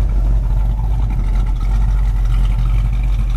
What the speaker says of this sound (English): Dual exhaust is newer, and that sounds great.